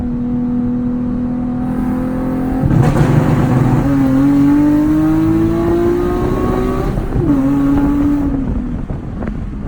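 A Nissan 370Z engine fitted with a Sprint Booster revs up steadily, its loud, close drone climbing in pitch, dipping once, then rising again before easing off.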